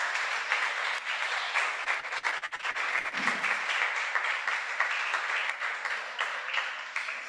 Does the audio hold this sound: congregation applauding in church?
yes